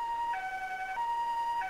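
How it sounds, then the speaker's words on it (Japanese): An emergency siren wails in a full-animation dating sim, two alternating tones switching back and forth in a steady hi-lo pattern, clear and prominent with no talking over it. "もうサイレンとか鳴らさないで超不安になるから。"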